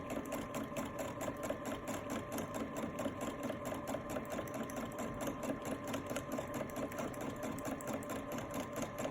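A domestic sewing machine runs steadily while doing free-motion stitching on a quilt, its fast even needle chatter and motor hum continuing close up and unbroken, with no talking over it.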